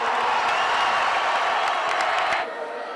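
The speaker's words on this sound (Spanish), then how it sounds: "así que aplaudámoslo porque se lo merecen" A crowd gathered to celebrate Atlético Madrid's Europa League title applauds and cheers the players, a dense roar of clapping that drops off sharply near the end.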